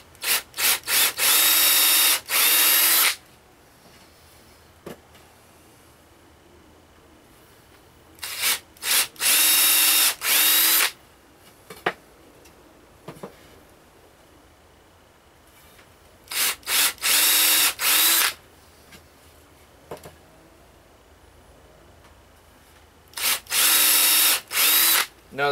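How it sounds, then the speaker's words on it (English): Power drill pre-drilling screw holes in wood for a tiny house storage closet, four loud whirring bursts of a few seconds each separated by quiet pauses, close up with no talking. "I'm gonna pre-drill this for the screws that are gonna hold this all together."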